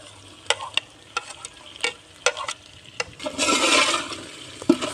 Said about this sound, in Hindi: स्पाइसी डालने के बाद अच्छे से मिक्स करेंगे।